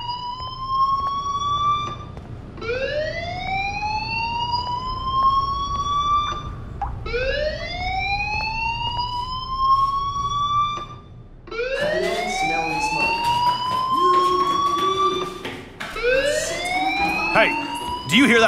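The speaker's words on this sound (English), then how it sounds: "Do you hear that fire alarm?" A rising, wailing electronic fire alarm repeats in the video game Life Is Strange, each sweep climbing in pitch, loud and close, with a second alarm layer joining partway through over faint background murmur.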